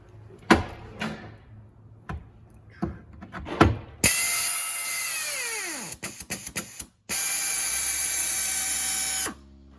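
A ratchet tightens the nut on the plus-side bolt of a WM Systems swivel loading ramp in a Mercedes. Scattered sharp clicks come first, then longer bursts of fast, loud ratcheting with a whirring mechanical tone.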